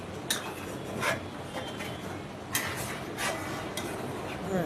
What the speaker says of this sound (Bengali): তারপর চিংড়ি মাছটা আমি ছেড়ে দিয়ে কিছুক্ষণ নাড়াচাড়া করলাম।